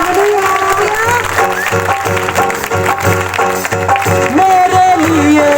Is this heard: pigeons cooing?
no